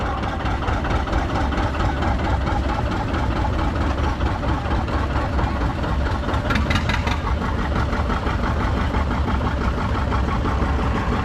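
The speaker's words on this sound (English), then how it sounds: "Next we got a John Deere 820." A 1957 John Deere 820 two-cylinder tractor runs at a parade: a loud, close, steady engine chug continuing unbroken for the whole stretch, with no voices.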